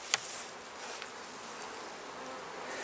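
Honey bees hum throughout a crowded four-week-old nuc hive, a continuous close buzz with a faint tick at the start and no voices.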